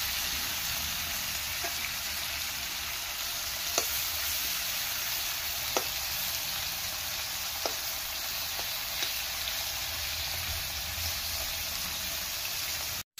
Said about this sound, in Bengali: চিংড়ি মাছগুলো হালকা করে ভেজে নিতে হবে।